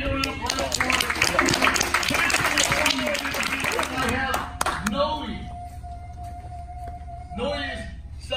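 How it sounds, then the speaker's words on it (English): An audience at a first-degree black belt ceremony gives a round of applause, a dense burst of many hands clapping for about four seconds before fading into quieter room sounds and a voice. "let's have a big round of applause for him"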